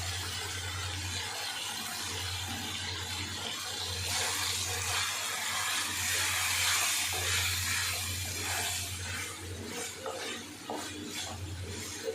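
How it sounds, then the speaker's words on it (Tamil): Chicken fry cooking in a pan with a small amount of water poured in, giving a steady sizzle and hiss with stirring and faint utensil scrapes throughout, close and continuous with no talk. "கொஞ்சமாக தண்ணி ஊற்றிக்கிறேன்"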